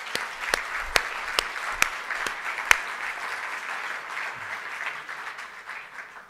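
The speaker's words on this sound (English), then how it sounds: "Please give them a round of applause" A forum audience applauds: a few sharp, separate claps stand out at first, then settle into a steady, fairly soft patter of many hands that continues throughout.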